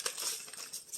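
An easy-tear plastic package is torn open by hand in a kitchen, a brief burst of crinkling and ripping lasting about a second.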